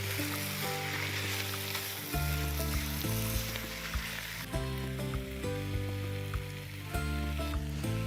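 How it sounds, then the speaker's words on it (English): Lamb stew with tomatoes and pepper sizzles steadily in a pan while being stirred, a continuous close frying hiss with occasional scraping clatter and no speech. "Give that a good stir."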